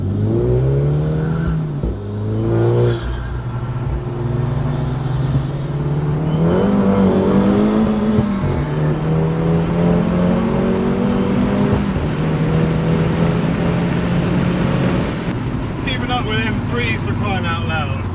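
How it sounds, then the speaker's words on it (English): A tuned 300 bhp Abarth 695 Biposto MTA accelerates hard, its engine note rising and falling through gear changes with a loud, whooshing intake roar, while people talk over it. "I can't get over the intake noise,"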